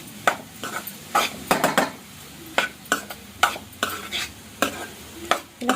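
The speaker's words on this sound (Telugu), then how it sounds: "కారం యాడ్ చేసుకున్నాక ఒకసారి మొత్తం ఫ్రై అంతటిని కూడా ఇలా కలిపేసుకుందాం" A spoon stirs carrot fry with chilli powder in a pan, producing repeated loud scraping strokes in an uneven rhythm over a soft background sizzle, close up and without speech.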